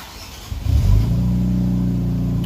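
An Infiniti Q60 engine with a modified exhaust cranks and catches, then settles into a steady, deep idle rumble close by.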